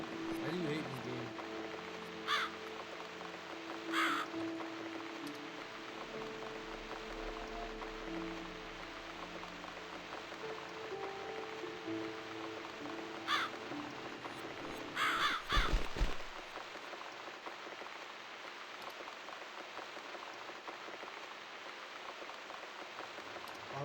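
Harsh crow-like caws from the video game The Cat Lady come in a few short, spaced bursts over a steady rainy ambience, with a voice talking through much of it.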